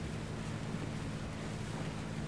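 A boat churns along a river in the game ARMA 3, a steady rush of water and engine wash mixed with wind noise, continuous and fairly quiet.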